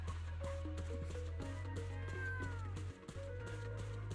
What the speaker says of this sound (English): I think you offended one of the cats.